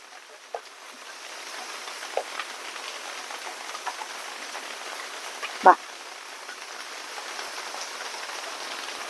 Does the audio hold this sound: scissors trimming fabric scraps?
no